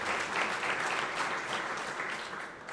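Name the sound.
audience applause at Dallas city news conference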